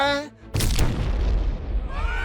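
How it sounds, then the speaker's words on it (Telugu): A cartoon bomb goes off in a shopping mall with a sudden, loud, booming blast that rolls on as a long rumble. A character's voice is heard briefly before it and again as it fades. "మాల్లో బాంబు పేలింది, అందరూ పారిపోండి"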